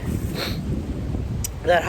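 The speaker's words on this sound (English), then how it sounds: "man, it's windy out here today" Low rumbling gusts of wind buffet the microphone steadily outdoors among blowing trees, with a brief faint rustle near the end.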